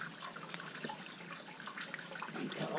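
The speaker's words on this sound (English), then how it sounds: "And fill up my water bottle from the trickle down here." A thin trickle of stream water runs steadily into a water bottle outdoors on a backpacking trip, a soft continuous splashing and gurgling close by with no talk.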